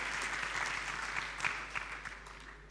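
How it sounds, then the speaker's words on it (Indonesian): A church congregation at an Indonesian Christmas Day service claps together, a soft, even spread of hands heard at some distance over a low steady hum, tapering off toward the end. "tepuk tangan dong"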